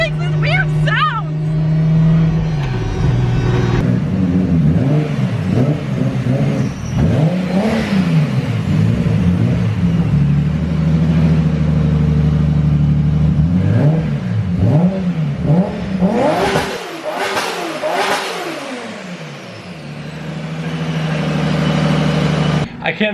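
A built RB25 Skyline engine revs hard and pulls away repeatedly, its loud note climbing and falling through gear changes before it settles near the end.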